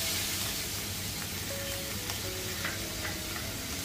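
Chopped tomatoes sauté in a pan for egg bhurji, giving a steady close sizzle throughout with faint scraping ticks, no voices.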